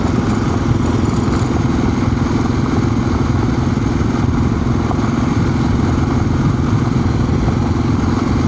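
A motorcycle rides steadily on gravel, its engine a continuous close rumble with crunchy, clattering noise layered over it throughout, no talking.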